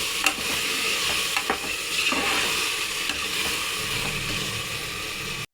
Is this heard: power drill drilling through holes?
no